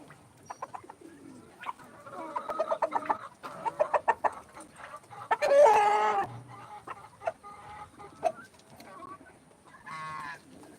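Spotted hens cluck close by in short, uneven bursts, one louder squawking call rising in the middle, with scattered sharper calls from other birds around them.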